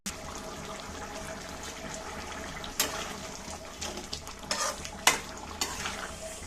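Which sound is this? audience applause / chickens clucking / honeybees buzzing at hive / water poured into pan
water poured into pan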